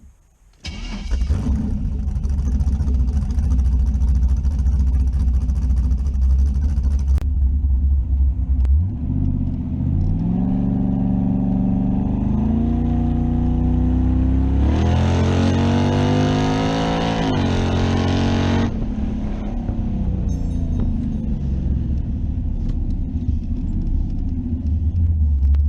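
A Chevrolet Camaro with a new cam fires up and roars close by, the engine revving up through the gears with audible shifts and a loud, rumbling exhaust throughout.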